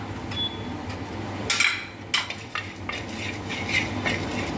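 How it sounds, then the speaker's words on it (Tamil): Fenugreek, cumin, pepper and turmeric rattle and scrape in a dry pan as a utensil stirs them, with a few sharper clinks against the metal and no talking. "வெந்தயம், சீரகம், மிளகு எல்லாமே சேர்த்து வறுத்தரலாம்."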